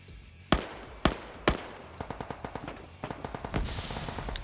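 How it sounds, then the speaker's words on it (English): Loud explosions crack out in an Arma 3 PvP match: three sharp blasts about half a second apart, then a rapid run of smaller bangs and bursts that may be gunfire, all close and prominent with no talk. "Grenades."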